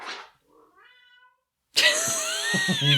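A cat lets out a few short, faint mews, then a brief pause, followed by one loud, drawn-out meow close to the microphone.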